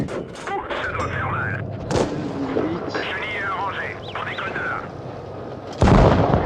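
Tank cannon shots and explosions from World of Tanks Blitz, with an AC IV Sentinel in play, boom out amid game effects while someone talks over them; a loud blast lands near the end.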